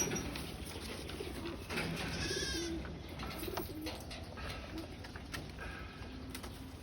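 A racing pigeon just back from Legazpi, Albay coos in soft low repeated calls, close by, amid outdoor background noise and a few chirps.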